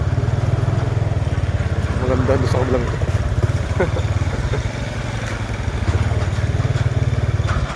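A scooter engine idles and runs close by in a steady, throbbing drone, with people talking over it throughout.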